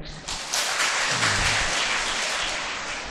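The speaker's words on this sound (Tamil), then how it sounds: "எல்லாம் கைதட்டுங்க." An audience at the Adaikala Madha shrine gathering in Elakurichi breaks into applause, a dense burst of many hands clapping that rises quickly, holds for a few seconds and begins to fade.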